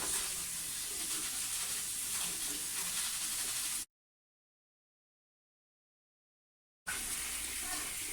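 Water runs steadily while rice for sushi is being rinsed, a continuous broad splashing rush that stops abruptly for about three seconds and then resumes; no one talks.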